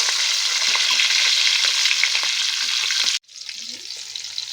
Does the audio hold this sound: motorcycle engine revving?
no